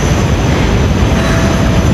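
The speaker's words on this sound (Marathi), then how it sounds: "मेट्रो आमच्याच नादीने येईल, आता ओरडायला लागेल." A metro train pulls into a station, a loud continuous low rumble and roar of wheels and motors filling the whole span, steady and close with no talk.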